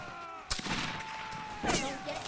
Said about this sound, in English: Just keep retreating and shooting. Keep retreating and shooting.